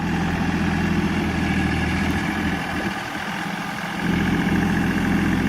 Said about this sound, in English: That little tractor does a nice job.